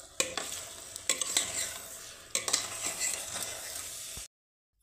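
A sago (sabudana) mixture for potato fasting chakli is stirred in a pan, a steady scraping and sizzling with a few sharper knocks of the spoon against the metal, close and continuous before stopping abruptly.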